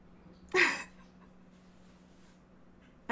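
A single short sneeze burst, close and fairly loud, followed by a quiet room.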